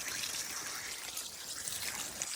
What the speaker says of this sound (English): First, prime the surface with a little bit of water, let it soak in, and then water again.